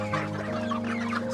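Laying hens cluck in short, repeated bursts close by on a backyard farm in Cebu, a busy little chorus of clucks over a low steady hum.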